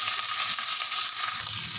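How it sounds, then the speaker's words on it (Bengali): Tomatoes hit hot oil with ginger and chilli paste for a vegetarian pea dal, giving a steady, fairly loud sizzle with a faint stirring scrape, no voices. "এবার টমেটোগুলো দিয়ে দেবো"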